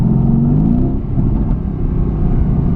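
Mercedes-AMG GT S engine revving, a loud, dense, rumbling drone with a rising note early on, then a steady throaty growl that stays strong throughout, with no voices.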